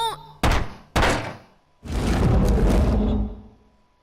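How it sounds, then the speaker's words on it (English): A door in the video game Zero Time Dilemma gives two heavy, closely spaced thunks, then a long rumbling slide that fades out, loud and close. "A door."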